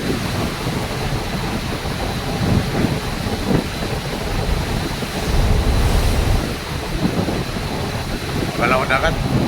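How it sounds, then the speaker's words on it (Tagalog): Heavy sea surf near Matnog, Bicol, surges and crashes in big rolling swells under blustery wind, loud and close, with faint voices mixed into the roar. "Medyo malaki na ng alon"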